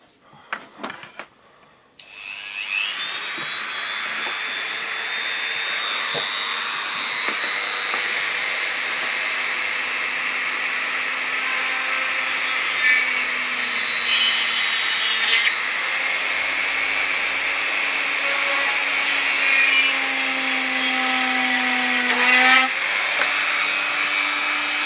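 A power tool drills holes in a Kydex sheath for a scalpel, starting after a couple of clicks and whining steadily at high pitch, with the tone dipping briefly as the bit loads up.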